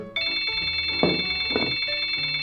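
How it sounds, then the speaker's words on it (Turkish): A cartoon phone rings with a bright, steady electronic ringtone that starts abruptly and carries on throughout, joined by a couple of short thumps and soft background sounds, with no talking. "Hey, telefonum çalıyor."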